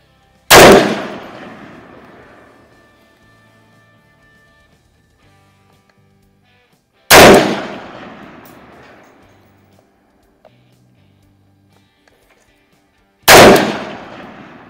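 Izhmash Saiga .223 AK-style rifle fired at an outdoor range: three loud, sharp shots spaced several seconds apart, each trailing off in a long echoing decay, with near silence between.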